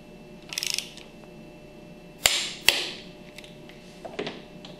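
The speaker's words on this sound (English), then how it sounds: "Torque that center bolt to 130 inch pounds." A center bolt on a piston pump being tightened with a wrench to 130 inch pounds, giving a quick ratcheting rattle followed by a few sharp, close metallic clicks and taps in a quiet room.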